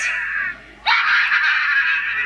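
A shaken battery-powered doll gives a loud, shrill electronic scream. It stops briefly, then comes back in one long, steady, piercing burst.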